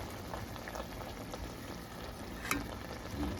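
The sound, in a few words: food being stirred and turned in a frying pan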